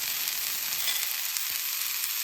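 Eggplant slices frying in oil in a pan, a steady, dense hiss of sizzling that runs unbroken and fairly loud with no voices over it.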